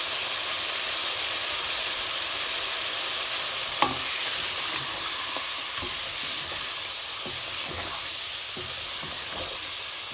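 Chicken korma with red chilli powder, turmeric and ground coriander being stirred in a cooking pot, a continuous loud sizzle broken by repeated scraping strokes of the spoon, with no talking.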